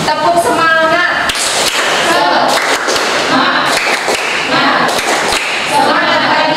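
A school class claps out a rhythmic chant together, sharp bursts of hand claps and slaps in repeating patterns mixed with shouted group voices, loud and close in a classroom.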